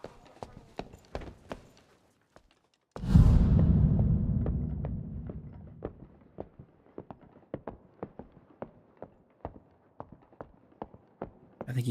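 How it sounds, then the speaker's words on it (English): Footsteps in a fantasy dungeon video game sound as a steady run of sharp, close clicks and taps, broken by a loud, booming blast that slowly fades. "I think he heard our footsteps."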